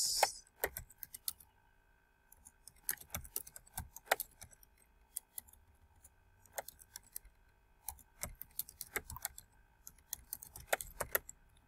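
Typing on a computer keyboard in a text editor, heard as faint, sparse clusters of key clicks with short pauses in a quiet room.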